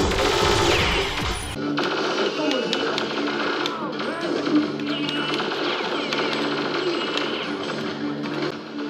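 Rapid automatic gunfire from the shooter game Perfect Dark rattles in dense bursts, with game voices and other effects layered over the shots at a fairly loud level.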